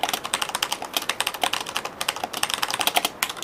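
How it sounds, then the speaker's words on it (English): Brisk, fast typing on an Azio Levetron mechanical keyboard with Cherry MX Black switches, a steady stream of close, crisp keystroke clacks with no talking. "So you can hear the key switches here."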